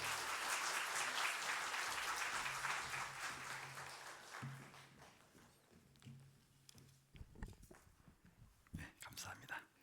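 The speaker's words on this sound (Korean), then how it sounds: "큰 박수로 환영의 박수를 해주시면 감사하겠습니다." Congregation members at a Korean church evangelism seminar give a warm round of applause to welcome a pastor, loud at first and tapering off after a few seconds, followed by quieter speech and scattered noises.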